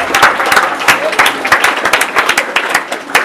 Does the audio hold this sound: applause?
yes